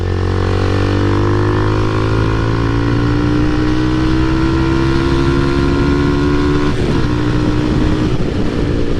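Motorcycle ridden on the road at moderate speed, a loud steady engine drone with gently shifting pitch, heavy wind rush over the helmet and road roar filling the whole stretch.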